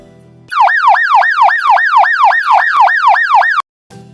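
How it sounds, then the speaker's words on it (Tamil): An ambulance siren in hyper yelp mode wails loud and close in fast, repeated rising-and-falling sweeps, about three per second for three seconds, then cuts off abruptly. "அடுத்ததை நம்ம பார்க்க போகிற சைரன் சவுண்டு வந்து ஹைப்பர் எல்ப்."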